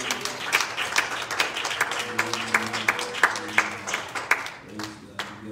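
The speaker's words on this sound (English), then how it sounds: "So would you clap your hands to the Lord?" A worship congregation claps along in praise, with sharp, fairly regular hand claps landing in a loose rhythm over sustained music and voices, close and lively throughout.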